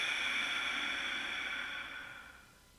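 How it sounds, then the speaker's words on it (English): Slow, audible breath exhaled through the mouth during a 4-7-8 breathing exercise, a soft airy hiss fading out over a few seconds, close and alone. "when you exhale through the mouth, you can make it audible"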